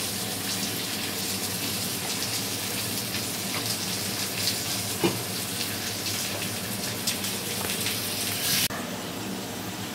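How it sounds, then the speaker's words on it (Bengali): Potatoes frying in a pan over a medium gas flame while a pot cooks nearby, a steady hissing wash of sizzling that runs continuously throughout, loud and close, with an occasional clink and no talking. "গ্যাসটা আমি মিডিয়াম ফ্লেমে দিয়ে আলুটা ভাজবো"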